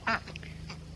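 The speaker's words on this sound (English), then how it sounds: "But here's all the ducks." A single short duck quack rises faintly on a farm with a flock of about a dozen ducks, set against a low steady background hum.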